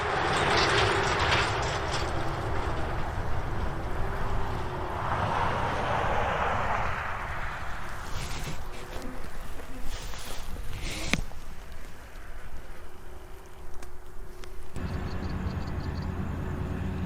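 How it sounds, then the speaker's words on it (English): A low, continuous rumble swells and rolls on for many seconds, broad and heavy, as a train passes close by in eastern Australian countryside near mountains, with rattling bursts midway. "Here comes the train."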